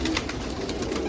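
Close, continuous low cooing from fancy coloured pigeons, a dense rolling murmur with a few brief sharp ticks over it.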